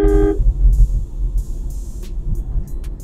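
A 2023 Swift car gives one short, loud honk at a two-wheeler during night driving, followed by the low rumble of the engine and road noise inside the cabin.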